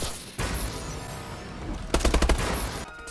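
Medal award sounds in the shooter game Call of Duty: Advanced Warfare play as a quick rapid stutter of punchy electronic hits over a steady game-effects backdrop, loud and close, with no talking.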